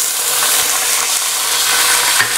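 Garlic-ginger paste hitting browned onions frying in a pot for chicken Afghani pilao, a steady close broadband sizzle with faint stirring scrapes, no talking.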